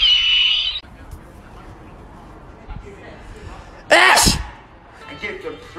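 A single sharp sneeze bursts out midway, loud and close, against a quiet room with a brief hiss at the start.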